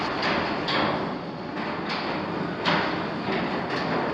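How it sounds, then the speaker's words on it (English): Garage door opener raising a metal-panel overhead door in an 1980s North Dallas home, a steady loud mechanical rumble with periodic clunks as the panels roll up, running throughout. "That's our garage door opener."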